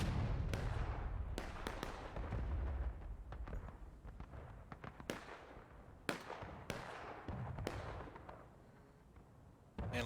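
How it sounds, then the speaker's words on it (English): Booming artillery shots in a Civil War video game, set on the School House Ridge map, land as several distinct loud blasts spaced irregularly over a rumbling battlefield background. "Oh, nice arty shot though by the Union."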